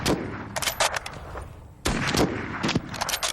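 Lee Enfield bolt-action rifles firing, several loud sharp shots in close succession in two bursts, with a brief quieter gap between them.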